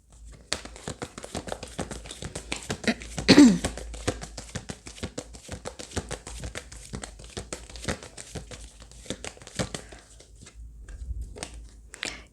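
Tarot cards being handled: rapid papery crinkles, flicks and taps of shuffling and sorting cards, close and continuous, with a couple of louder rustles and no talking.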